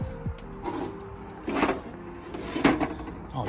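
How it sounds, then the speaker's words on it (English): A drawer in an abandoned houseboat is worked in short bursts, with a few scraping, sliding knocks spaced apart over a faint hum in an otherwise quiet room. "Oh, just like a drawer thing."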